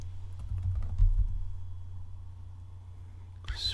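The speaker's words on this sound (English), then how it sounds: "Now I'm going to type" Typing on a computer keyboard while entering a terminal command on a Debian 9.4 system, with scattered key taps early on, a quiet stretch of low hum and a sharper burst near the end.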